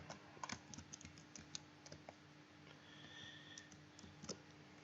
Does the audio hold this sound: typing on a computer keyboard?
yes